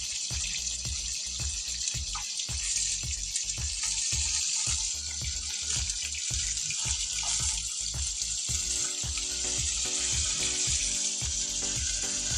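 Fish frying in a pan, a bright continuous sizzle with steady crackling and regular low thumps beneath it, moderately quiet and close, with no talking.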